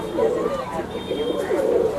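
Red Chinese pigeons coo in soft repeated rolling calls, close by, with a voice talking over them.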